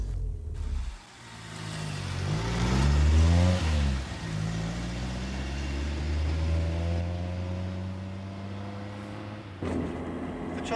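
A car driving up a road past a pink house on Clapgate Lane, its engine note rising and falling steadily as it pulls along, fairly loud and close with no voices.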